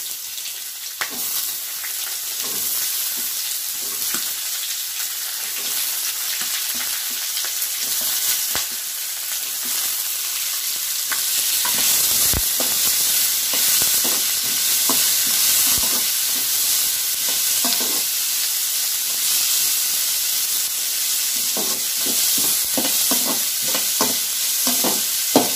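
Onions frying in oil for tomato thokku, a steady loud sizzle with repeated scraping stirs of a spatula in the pan throughout.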